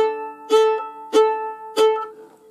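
Three short, sharply attacked fiddle notes, each cut off almost at once, spaced evenly apart with brief silences between them.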